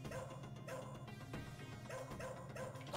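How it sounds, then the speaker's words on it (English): A dog barks and yips while attacking enemies in the Shadow Dancer arcade video game, the short repeated barks coming in bursts over quiet, steady game music. "Why is the dog suddenly attacking everybody?"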